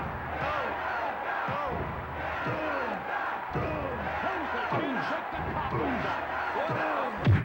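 Arena crowd in the wrestling video game WWF War Zone, a dense continuous roar of cheering with swelling chants and periodic whooping surges, loud and sustained throughout.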